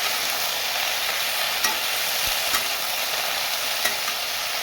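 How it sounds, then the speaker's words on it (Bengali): Vegetables cook in a pan with salt and turmeric, a loud, steady hissing sizzle filling the whole stretch, with a few faint scrapes of a stirring utensil and no talking. "আমি নুন হলুদ দিয়ে নাড়া দিয়ে দিলাম"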